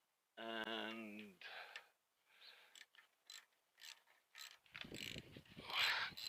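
10mm socket ratchet loosening engine bolts during a valve check, with a tonal squeak at first, then a series of short clicking and rasping strokes in uneven bursts, close and fairly quiet.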